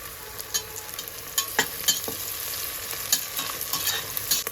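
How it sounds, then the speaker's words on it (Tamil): Quail pieces sautéed with shallots and green chillies in a hot pan, giving a steady sizzle broken by sharp scraping stir strokes at irregular intervals, close and fairly loud with no voices. "காடையும் ஹீட் ஆகும், சின்ன வெங்காயம் நம்ம போட்டுக்கலாம். 3 பச்சை மிளகாய் போட்டுக்கலாம். இப்போ இது வதங்கட்டுங்க."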